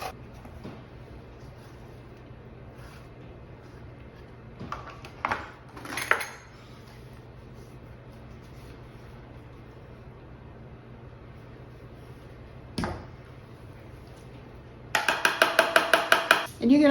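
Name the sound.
grating vegetable on a double-bladed grater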